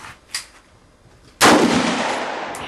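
A single loud gunshot at an outdoor shooting range, a sharp blast with a long ringing decay, preceded by a couple of faint distant shots.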